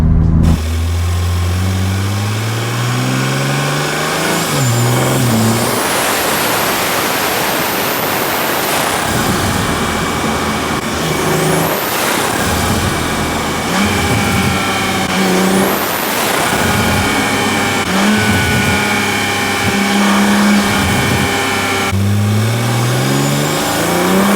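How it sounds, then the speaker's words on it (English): A Toyota Supra engine heard close up from under the hood, idling then revving repeatedly with rising and falling whooshing intake roars, no voices. "I'm gonna put a microphone under the hood and let you hear the intake."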